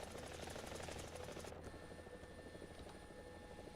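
Ka-50 attack helicopter lifting off in War Thunder, a steady rotor thrum with fast rhythmic blade chop that smooths into a continuous engine whine partway through.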